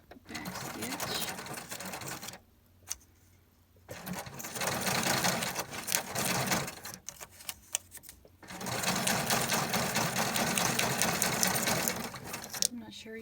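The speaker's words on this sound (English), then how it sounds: "I'll run these over to my sewing machine and stitch them up" Sewing machine stitching ruffled paper strips, whirring in several bursts separated by short pauses, with a backstitch; a voice talks quietly in between.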